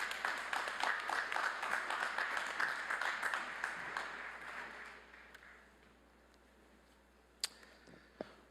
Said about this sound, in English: About a round of applause for our president